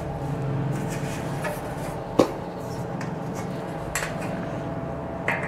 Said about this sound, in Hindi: तो अब इस प्लेट को हम लोग इस पर फिक्स कर देंगे।